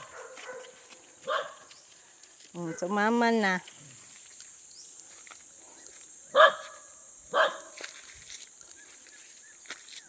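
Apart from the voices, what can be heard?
dogs barking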